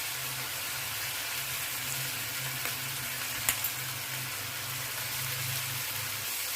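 Tomato and paneer fry in a pan with a soft, continuous sizzle and light crackle, a low hum beneath and one or two small sharp ticks, no talking.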